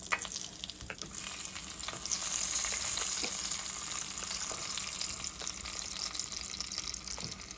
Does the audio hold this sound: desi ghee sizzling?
yes